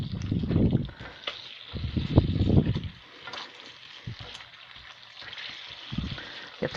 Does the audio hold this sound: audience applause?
no